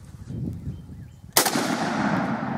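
An M1 Garand rifle fires a single sharp, loud shot with a bright burst, followed by a long ringing decay as the action cycles; the clip clang is not separately distinct.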